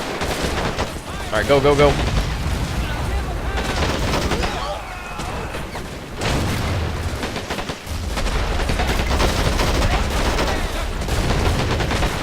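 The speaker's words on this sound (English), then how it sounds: "Oh yeah, artillery coming in now." Gunfire and artillery rumble through a Men of War: Assault Squad 2 battle, heavy booms and dense bursts of shots rolling continuously at close range while someone talks over the din.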